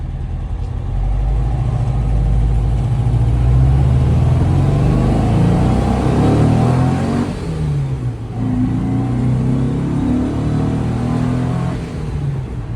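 A restored Porsche 356 with a four-cylinder engine pulls along the road from inside the cabin, its steady mid-pitched drone rising and falling through several shifts and revs, with no talk over it.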